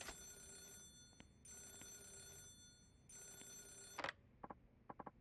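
A telephone rings three times in bright, buzzing bursts in the video game Yakuza 0, then a few faint clicks follow in a quiet scene.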